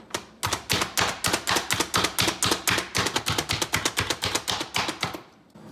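Fresh garlic gets chopped in a garlic mincer with quick, even, crisp clicks, about five per second, close and steady for several seconds.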